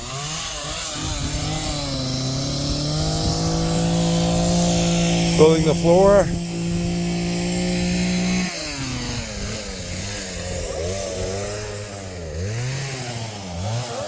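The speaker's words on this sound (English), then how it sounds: "My sister likes to yank with the chainsaw." A chainsaw idles and revs with a steady droning buzz at a disaster-prep building site, running throughout under someone speaking nearby, with a brief pitch surge partway through.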